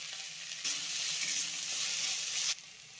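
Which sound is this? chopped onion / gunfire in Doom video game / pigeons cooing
chopped onion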